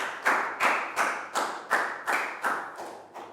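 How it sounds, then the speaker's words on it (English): Steady rhythmic clapping in a primary school English classroom, about nine even claps at a moderate pace, close and fairly quiet, with no voices over it. "Big round of applause for Pat."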